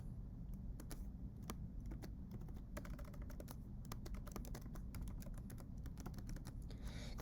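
Student ID and password typed on a computer keyboard: a quiet, steady run of sharp key clicks with a few heavier taps, over a low background hum and no talking.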